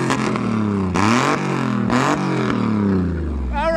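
Modified trucks with new engine tunes rev hard at a Florida mud truck party, loud and close, with repeated rising and falling engine roars and sharp throttle blips.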